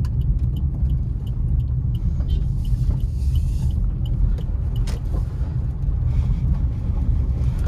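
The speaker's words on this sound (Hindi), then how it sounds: "अब ब्रेकर्स हैं भाई दो, सस्पेंशन देखते हैं गाड़ी के" A Maruti Suzuki WagonR LXi CNG BS6 with leaking rear suspension and 13-inch JK Ultima Neo tyres rolls over speed breakers, giving a steady low cabin rumble with scattered soft knocks and thumps.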